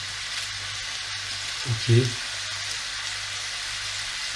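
Large chunks of eggplant fry in a pan with a steady, soft hissing sizzle throughout, while a voice says a short word in the middle.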